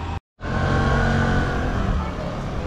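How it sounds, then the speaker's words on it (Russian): Car and moped engines rumble and whine close by after a brief silent gap, a dense mix of motor traffic crowding a narrow street in Kaş, loud and continuous. "маленькая улочка, машины, мопеды, и все хотят проехать"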